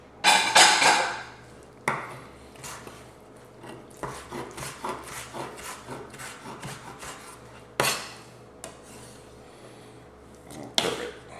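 A bowl shifted aside on a kitchen counter while cooking Southern cornbread dressing: scattered scraping, rubbing and clunking sounds, with a louder burst at the start and a few sharper knocks later, close and fairly quiet.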